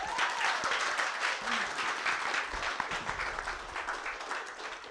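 An audience applauds after a sustainability pitch presentation, with dense, steady clapping throughout at moderate volume and a few brief voices underneath.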